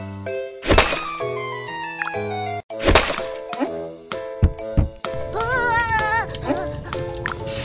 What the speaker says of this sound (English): Use the fire axe to split them.